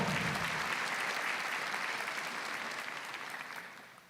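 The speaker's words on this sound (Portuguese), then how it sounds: "Aplaude o Senhor" A church congregation applauds during a Catholic priest's homily, a strong sustained wave of clapping from a crowd that gradually tapers toward the end.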